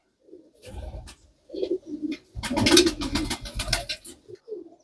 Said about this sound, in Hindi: किस तरीके के ये कबूतर हैं